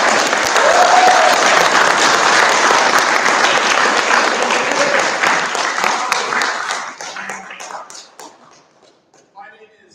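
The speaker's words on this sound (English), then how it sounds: "Let's give all of our finalists a big round of applause." An audience at a Junior Varsity political science bee national championship finals claps for the finalists: a dense, loud round of applause that holds steady for several seconds, then thins into scattered claps and fades out.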